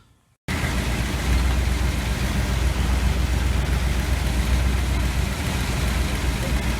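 1986 GMC Sierra with a 400 small block V8 on a freshly installed distributor starts up and runs, a steady loud close rumble that continues without letup after a brief quiet opening.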